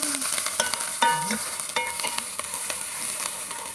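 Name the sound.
stirring onions frying in a pan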